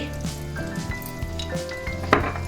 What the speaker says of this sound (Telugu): ఇప్పుడు ఇదంతా పచ్చి వాసన పోయే వరకు బాగా వేయించుకోవాలి